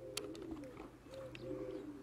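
Soft pigeons cooing in low murmuring phrases as young racing pigeons arrive at their loft, faint and close by, with a few quick chirps and no talking.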